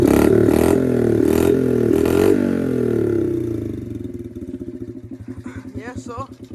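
A Honda CRF dirt bike engine runs close and loud, a rough throbbing idle that settles into a steady rapid putter, with someone talking over it toward the end.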